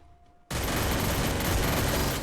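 Sustained gunfire from the Free Fire video game bursts in after a moment of near silence, a dense, continuous loud rattle of shots that holds steady until the end, with no talking.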